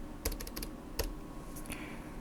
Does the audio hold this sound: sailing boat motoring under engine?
no